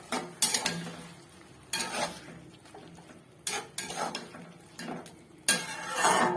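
Spinach greens being stirred with spices in a pot for a mixed vegetable dish, heard as several bursts of scraping and clattering spoon strokes separated by quieter pauses, close by with no voices.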